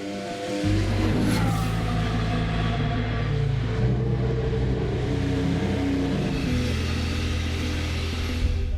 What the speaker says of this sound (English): Max will have to watch as Carlos gets the first ever ride of the STR10.